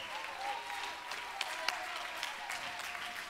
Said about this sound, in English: Somebody give him a hand clap before I blow a blood vessel.